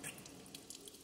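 Water running steadily from an Electrolux water purifier tap, a faint continuous trickle with light splashing throughout.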